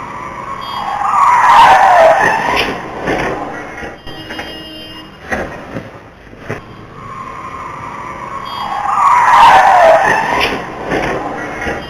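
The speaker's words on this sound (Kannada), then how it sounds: "ನೇರವಾಗಿ ಬಂದ ಕಾರು ಡಿವೈಡರ್ ದಾಟಿ ಎದುರಿನ ರಸ್ತೆಯಲ್ಲಿ ಬರುತ್ತಿದ್ದ ಬೈಕ್ಗೆ ಡಿಕ್ಕಿಯಾಗಿ ನಂತರ ಆಟೋಗೆ ಡಿಕ್ಕಿಯಾಗಿದೆ" A car crossing a road divider in a Tumakuru traffic accident, hitting a bike and then an auto-rickshaw: a loud skidding roar swells twice with a quieter rumbling stretch between, and no voices are heard.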